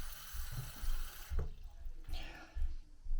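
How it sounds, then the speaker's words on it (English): Cold water pours from a sink faucet with its flow regulator removed, a steady broadband rush that runs throughout, broken by a few low knocks and thumps as the stream hits the basin or the container is moved. "we'll see how fast the water comes out with no flow regulator on the faucet"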